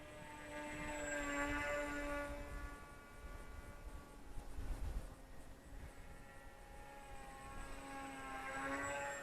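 Faint, distant electric-motor whine from a Volantex Ranger G2 RC FPV glider in flight, its pitch rising and falling as it passes overhead against soft outdoor background noise.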